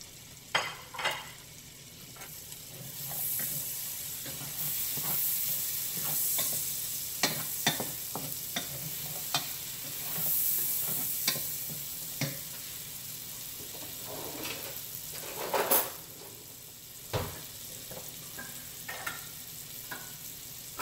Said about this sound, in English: I'm going to add the onions and the garlic, and let's saute that up